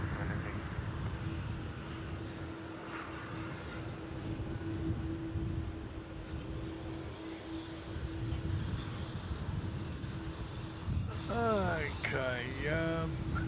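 A Vietnam Airlines airliner rolls for takeoff from runway 34 at Melbourne Airport, a steady distant jet roar holding throughout, with a voice chiming in briefly near the end.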